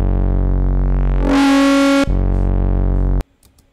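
A sustained electronic tone from a modular synthesizer holds steady, briefly swells into a harsher, brighter texture midway, then settles back before cutting off abruptly, loud and alone.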